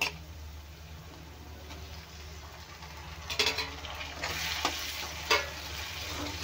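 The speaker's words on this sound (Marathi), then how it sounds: "आणि टोमॅटो पण छान तेलामध्ये भाजून घ्यायचं आहे आपल्याला गाळ होईपर्यंत।" Tomatoes fry in oil in a pan for dhaba-style egg keema masala, a soft steady sizzle with occasional stirring scrapes and utensil clinks, close and moderately quiet.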